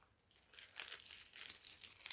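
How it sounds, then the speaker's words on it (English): A plastic bag for carrying water, part of a survival kit, crinkles and rustles faintly as it is handled up close, a soft continuous crackle that rises slightly toward the end, with no voices. "Got a plastic bag for carrying water."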